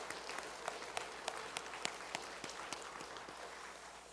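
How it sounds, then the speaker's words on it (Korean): Faint church congregation applause, a low wash of distant clapping with a few sharper individual claps standing out at irregular intervals. "우리 다시 한번 하나님 앞에 큰 박수로 한번 영광 올려드리도록 하겠습니다"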